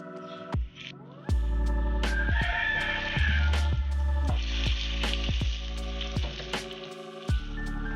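Mutton shami kababs fry in hot oil with a loud, steady sizzle, punctuated by sharp clicks and clatters as the patties are placed and turned in the pan.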